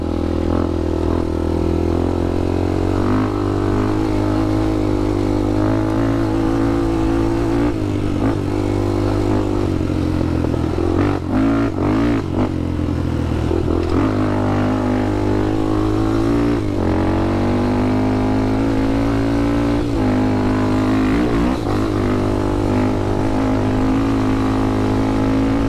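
A 2007 Honda 400ex quad runs along a trail, its engine droning steadily close up with shifting revs and occasional throttle changes throughout, no talking.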